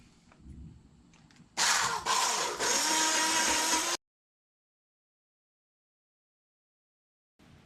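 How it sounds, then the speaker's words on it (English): A blender purees honey and blueberries for homemade fruit leather, a loud, steady whir running for a couple of seconds after a quieter start, then cutting off abruptly into silence. "Now we can go ahead and start pureeing it up"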